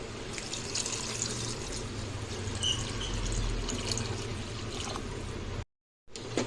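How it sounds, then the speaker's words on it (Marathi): Steady rushing of two glasses of water poured into a pot of fried potatoes, a continuous splashing flow that runs for several seconds before cutting off briefly. "मध्ये आपण दोन ग्लास पाणी टाकणार आहोत"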